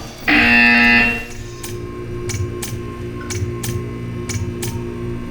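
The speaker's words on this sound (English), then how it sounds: "You will hear a buzzer." A loud, harsh electronic buzzer in the video game Portal 2 blares for about a second, then gives way to faint, steady ticking.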